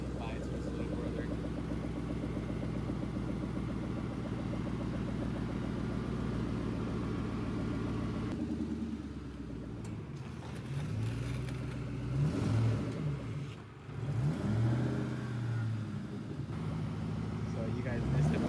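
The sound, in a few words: Cobra car engine revving as it drives away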